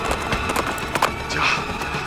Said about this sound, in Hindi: मेरा ही घोड़ा है शमशेर